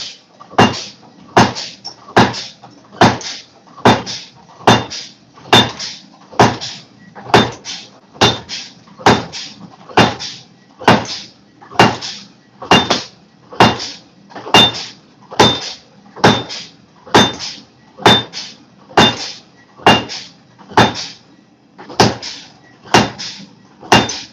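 Steady, evenly spaced metallic strikes repeat dozens of times, loud and close, a treadle hammer pounding 20-layer Damascus steel in a regular rhythm with no talking.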